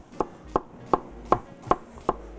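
A knife dices a red onion on a chopping board in six sharp, evenly spaced chops, close and clear with no talking.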